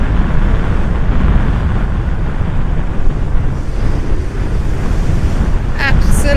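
Loud, constant surf of ocean waves breaking on the Scottish coast near Stranraer, Dumfries and Galloway, mixed with heavy wind roar against the microphone and no clear talk.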